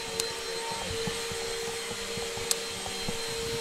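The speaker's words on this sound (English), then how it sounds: "the vacuum is being passed right now" A vacuum cleaner runs steadily in a room, producing a constant, unbroken motor drone with a few faint clicks and knocks. No one speaks.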